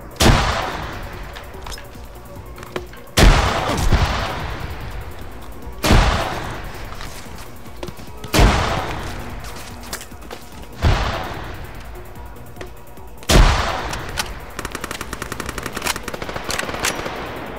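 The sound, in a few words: gunfire in ArmA 3 video game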